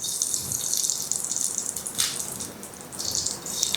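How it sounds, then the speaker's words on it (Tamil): Mustard seeds crackle and spit in hot oil while upma is being cooked, a dense, steady sizzle with scattered sharp pops running close up throughout. "கடுகு கொஞ்சம் நல்லா பொரியணும்."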